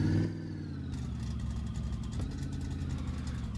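A car engine idles steadily up close with an even, low rumble and faint clatter, holding a constant pitch throughout with a brief louder moment at the start.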